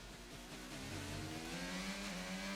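Racing car spinning out in a racing video game during a race at Azerbaijan, a loud sustained engine drone with shifting pitch and tire noise, steady and close, no talking.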